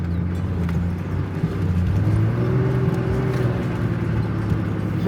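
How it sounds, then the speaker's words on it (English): A four-wheel drive vehicle crawls along a remote, barely visible off-road track at sundown, its engine rumbling low and steady for the whole stretch, joined by faint rattles and knocks from the rough ground. "This was true wild and remote adventure four-wheel drive, and in places the track disappeared entirely."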